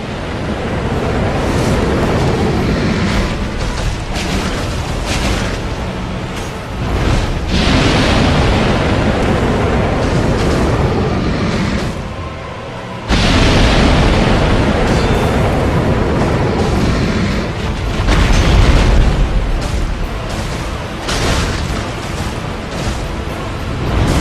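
The Black Dragon Kalameet in Dark Souls unleashes its breath attack, a loud sustained roaring rush like blasting fire or wind that fills the scene continuously, with a brief dip partway through.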